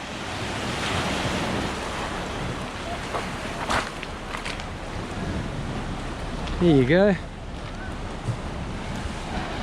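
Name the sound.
ocean waves at a beach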